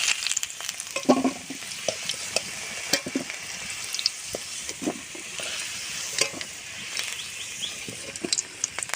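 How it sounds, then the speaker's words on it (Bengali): Potato pieces frying in hot oil, a soft crackling sizzle with scattered pops and occasional stirring scrapes, close and moderately quiet, with no talking. "মাংসে যেমন আলু দেয় তেমন করেই আমি ভেজে নিয়েছি"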